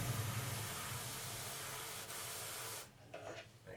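An airbrush test-sprays paint while priming a 1:32 scale Trumpeter MiG-17F model, giving a steady, close airy hiss that runs for nearly three seconds and then cuts off abruptly, leaving faint quieter puffs.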